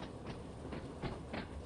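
An electric third-rail train in the Train Sim World 2 video game runs along the track, giving a steady rolling hum with rhythmic clacks about every third of a second, heard alone without talk.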